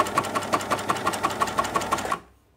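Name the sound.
coverstitch sewing machine doing a test stitch on binding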